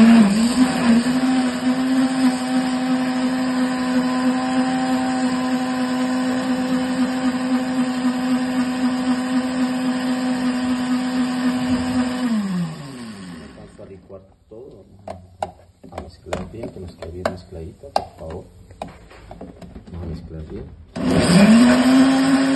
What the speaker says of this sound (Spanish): ¿Listo? Vamos a licuar.